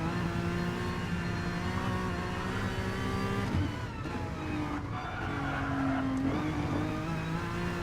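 Honda NSX Group 3 race cars in a racing video game howl at high revs, with a steady engine tone that drops at gear shifts and climbs again, alongside faint skidding.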